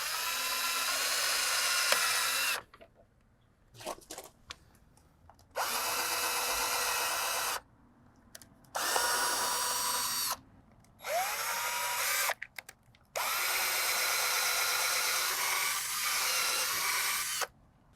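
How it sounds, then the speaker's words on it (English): A power drill bores pilot holes into the wooden frame of a KidKraft Lakeside Bungalow playhouse in several loud, close bursts of a few seconds each, separated by short quiet gaps, with no talking. "I drilled my pilot holes."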